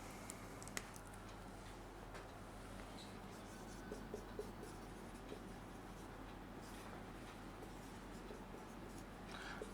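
Someone writing out a maths question, pen or marker scratching faintly and continuously with small ticks, quiet and close over a low steady hum.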